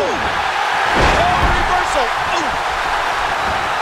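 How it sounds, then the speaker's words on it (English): A wrestler's kick lands with a single loud slam early on in the WWE 2K15 wrestling video game, heard under steady crowd noise with voices talking throughout. "A sharp kick."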